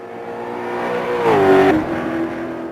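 ESR Aquila race car in RaceRoom at Monza, its engine climbing in pitch to a loud peak at mid-clip and then easing off, with no speech.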